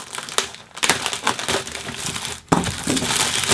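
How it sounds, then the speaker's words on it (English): Bubble wrap around a newly unboxed camera is cut open and pulled apart, making loud close crinkling and crushing plastic rustles in irregular bursts, with a brief pause near the middle. "Right, so it's in this nice bubble wrap here. Let's just cut that open."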